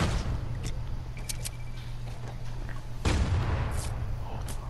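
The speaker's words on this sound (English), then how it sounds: "I think they're shooting at us." Gunfire from enemy players in Fortnite: scattered shots and booms crack through the clip, with a heavier burst near the midpoint, set against a steady low game drone.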